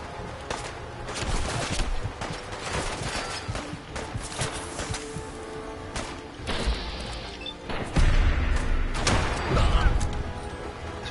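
A heavy gun fires repeatedly in Fallout 4, a dense string of loud, close shots and crashing impacts, with a brief low voice underneath.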